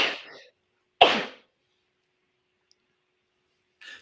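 A sneeze bursts out at about one second on a stage show, with brief voice fragments before it and a short sound at the very end; the rest is near silence.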